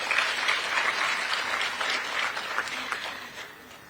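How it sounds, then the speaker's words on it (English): An audience at an investment forum in Chinsali claps for the President, a dense, fairly close round of applause that swells at the start and fades out over a few seconds. "A round of applause for the President."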